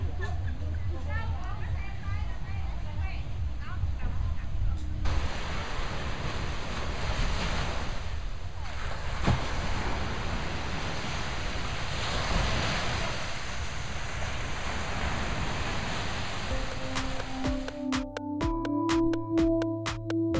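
Ocean waves wash onto a beach near Hoi An, a steady broadband surf roar with wind noise across the microphone, fairly loud throughout; near the end a few tonal clicks and hums break in over the surf.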